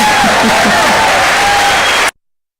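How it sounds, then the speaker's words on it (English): Audience at an outdoor press conference in the rain in West El Paso breaks into steady, loud applause mixed with crowd murmur, lasting about two seconds before cutting off abruptly. "Give yourself a hand clap."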